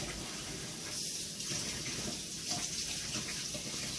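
Hot water pours steadily from a kitchen tap into a bowl, a continuous close splashing gush with no talk over it.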